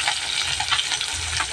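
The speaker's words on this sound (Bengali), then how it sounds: "মাছের যে তেল হয় ওই তেলগুলো ভাজা হচ্ছে" Fish fat fries in a pan, giving a close, steady crackling sizzle that runs unbroken and alone.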